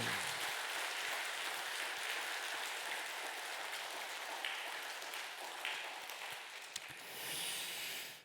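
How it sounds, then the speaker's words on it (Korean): A church congregation claps warmly during a Sunday worship service, a soft, even patter of many hands heard from a distance, sustained throughout and fading at the very end. "옆에 분을 보고 환하게 웃으면서 뜨겁게 박수"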